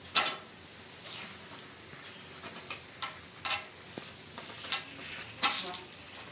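Appe, small rice dumplings, sizzle faintly in an appe pan, a soft low hiss broken by scattered clicks and taps as they are turned in their cups.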